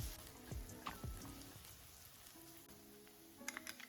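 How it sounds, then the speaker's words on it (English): Chopped onions fry with garlic in oil in a pan, giving a faint, soft sizzle broken by a few stirring scrapes and clinks, with no one talking. "Mix well with the garlic and oil and fry for about 3 to 4 minutes until slightly browned."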